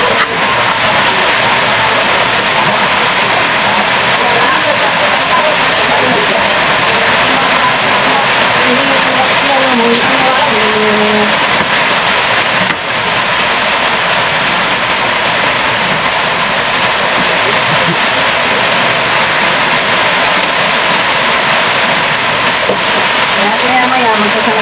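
Sudden heavy rain pours down in a loud, unbroken wash of hissing noise that stays constant throughout, with faint low rumbling mixed in.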